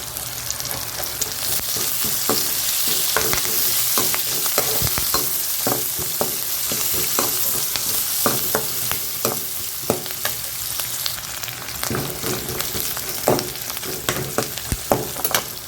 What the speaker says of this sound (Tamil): இதை கொஞ்சம் வதக்கிடுறேன் பச்சை கருவேப்பிலை போட்டுடுறேன் பச்சை மிளகாய் போட்டுடலாம்